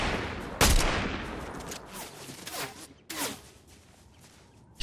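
Video game gunfire crackles in several sharp bursts, each a loud close crack followed by a decaying tail, spaced irregularly across the stretch with quieter rattling between shots.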